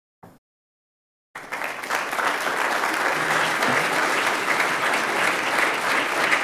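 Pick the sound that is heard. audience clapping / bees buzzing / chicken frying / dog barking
audience clapping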